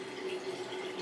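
Water pours steadily from the outlet of an Aqua Ionizer Deluxe 7.0 water ionizer, a faint continuous trickle with a thin, even hum beneath it.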